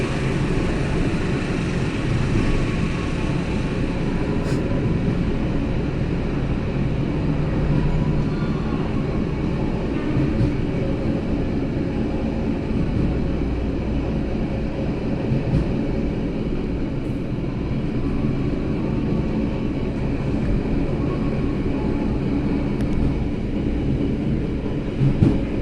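An Argo Merbabu executive train runs through Jatinegara station on track 3 without stopping. A loud, continuous rumble and rail roar carries steadily throughout, with faint clicks and squeals scattered over it and no voices.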